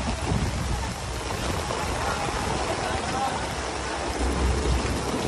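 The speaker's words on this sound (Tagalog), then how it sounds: "Bagyo pa din." Steady heavy rain and rumbling thunder from a storm at Manila Bay form a dense, continuous wash of noise with low booming swells near the end, loud and close throughout.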